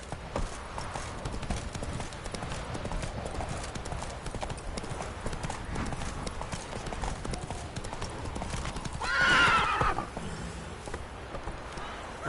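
A horse gallops in the video game The Witcher 3, with rapid rhythmic hoofbeats running throughout. A brief neigh or burst rises near the end. The sound is moderately loud and has no talk over it.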